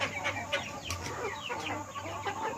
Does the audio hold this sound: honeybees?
no